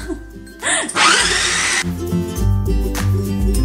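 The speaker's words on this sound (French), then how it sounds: "au lieu d'acheter tous les légumes à la main, je les mets dans le robot culinaire" Vegetables for a vegan spaghetti sauce are chopped in a food processor, a loud whirring motor burst lasting about a second, then softer churning under a low steady hum.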